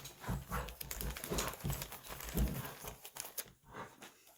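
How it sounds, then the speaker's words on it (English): Poodles wrestling nearby, with scuffling, thumping and rustling in uneven bursts and a few soft snorts, moderately loud and fading briefly near the end. "Poodles are wrestling."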